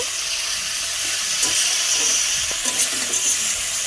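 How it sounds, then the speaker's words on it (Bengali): Pointed gourd and potato pieces fry with salt and turmeric, a continuous close sizzle with small scraping stirs and crackles throughout, no talking. "পটল আলুতে নুন হলুদ দিয়ে দিয়েছি ভাজার জন্য"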